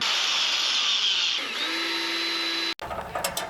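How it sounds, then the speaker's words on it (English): A power drill whines steadily as it drives a self-tapping sheet metal screw into a cargo trailer during a mini split air conditioner install; the motor pitch drops mid-run, stops abruptly, then brief clattering follows. "we'll have to use a self-tapping sheet metal screw to go all the way down in to hold this corner down"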